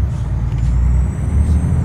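A Freightliner Argosy truck in American Truck Simulator gives a loud, close low engine rumble, with a brief hissing air-brake release on top.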